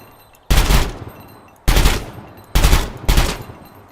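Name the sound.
automatic gunfire in video game Gunsmith Simulator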